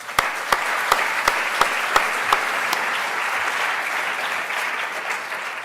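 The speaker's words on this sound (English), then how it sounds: "I want to thank them and give them a round of applause" A conference audience applauds at a closing keynote. Loud, dense clapping opens with sharp individual claps and stays sustained for several seconds before easing off slightly.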